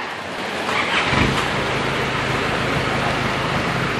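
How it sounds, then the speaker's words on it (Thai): Car engine cranking and catching during a black smoke emissions check, then a loud steady running rumble close by. "พี่สตาร์ทเครื่องเดี๋ยวผมจะดูควันดำหน่อย"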